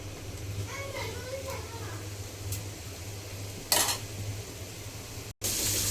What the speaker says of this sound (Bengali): এবার মশলাটা কিছু সময় ভালো করে কষিয়ে নেব